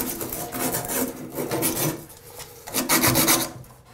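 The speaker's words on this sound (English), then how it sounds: "grab your sand cloth and just give the edge quick buff" Sand cloth rubs briskly back and forth across the edge of a bathroom finishing trim piece, producing raspy, rhythmic scraping strokes at close range with no voices.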